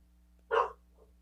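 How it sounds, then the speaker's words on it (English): A dog gives one short, sharp bark at fairly close range, followed by a faint trailing yip against an otherwise quiet background. "my dogs are barking"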